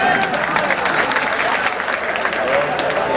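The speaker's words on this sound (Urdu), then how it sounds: "آپ تالیاں بجا سکتے ہیں" Audience applause following a poem recitation at a poetry gathering, a dense wash of clapping from a crowd that continues steadily with a voice faintly present beneath it.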